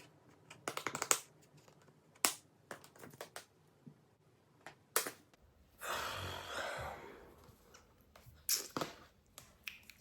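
Plastic ties are snipped and a Pop Mart Labubu figure is worked out of its packaging, giving close, quiet clicks, snips and crinkles and a short stretch of rustling box material, with no speech.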